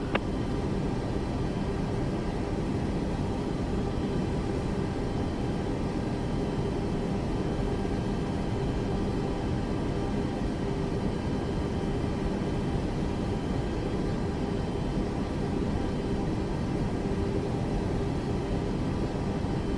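Steady, loud broadband roar of a Boeing airliner's engines on the takeoff run in Microsoft Flight Simulator 2024, a constant rumbling wash that holds without pause for about twenty seconds.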